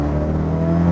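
Ford Focus RS pulling hard in racetrack drive mode, a loud, close, steady engine drone that holds its pitch through the short burst with no voices.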